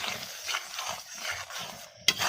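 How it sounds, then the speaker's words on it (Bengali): Fried okra is stirred into thick cooked lentil dal in a pot, with soft repeated scraping and gentle sizzling, then a sharp utensil clink near the end. "ভালো করে মিশিয়ে দিচ্ছি।"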